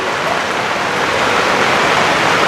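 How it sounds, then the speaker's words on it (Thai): Steady, dense rain pours down outdoors at a rural Thai home, a continuous close hiss with no breaks or individual drops standing out. "มารอบนี้มันฝนตก"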